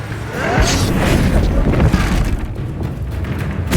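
A Bombarda explosion spell from the video game Hogwarts Legacy bursts into a loud, sustained booming blast with crackling debris, holding steady for several seconds before easing slightly.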